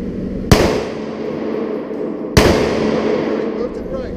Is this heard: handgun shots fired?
yes